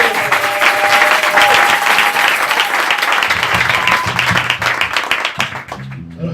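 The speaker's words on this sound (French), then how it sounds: "Alors, s'il est bon, on acclame." A church congregation bursts into loud, sustained applause and clapping, dense and steady throughout, with a background tone and some voices mixed in, fading slightly at the end.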